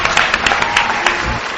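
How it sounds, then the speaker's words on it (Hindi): Live audience clapping for a tabla performer at a talent show, loud and close, a dense burst of applause with sharp individual claps standing out, steady for the whole stretch. "सो प्लीज जोरदार तालियां एक बार"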